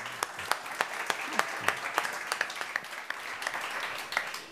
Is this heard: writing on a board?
no